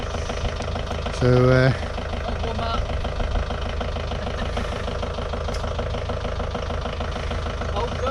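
A Fiat Scudo camper van's diesel engine idles steadily with a tappy, rattly clatter, a constant low rumble throughout while someone speaks briefly.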